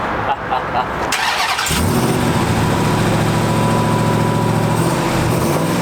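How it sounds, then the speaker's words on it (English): A pickup truck engine with standard exhaust cranks and fires up, then settles into a loud, rumbling idle that holds steady for several seconds. "You just got to hear this thing fire up."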